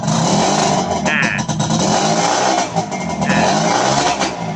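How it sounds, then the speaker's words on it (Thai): A motorcycle engine with a freshly cleaned carburetor revs up and down nearby, loud and steady with throttle blips, a voice briefly audible underneath. "เครื่องยนต์ติดง่าย นะครับ เดินเบาได้ เอาลองเร่งดูดิครับ"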